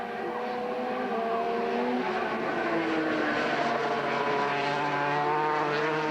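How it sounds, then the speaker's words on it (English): Racing motorcycles at full speed on a Malaysian circuit, engines screaming in a steady, loud high-pitched whine with shifting tones as bikes pass close together, continuous throughout. "Hirajima has got past the second Petronas bike and is now zeroing in on the Castrol machine of Chow Yan Kit."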